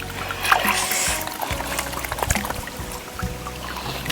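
Water splashing and trickling as someone washes their face in a cool stream outdoors: continuous close sloshing and pouring with irregular splashes, fairly loud, with no talk.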